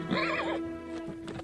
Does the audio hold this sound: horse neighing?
yes